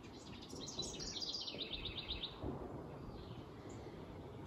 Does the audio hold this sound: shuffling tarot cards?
no